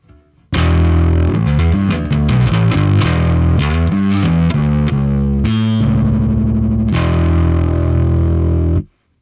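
A loud, distorted bass guitar plays a riff of sustained and shifting notes through a Line 6 Helix model of the EarthQuaker Devices Plumes overdrive, thick and gritty, alone with no voices.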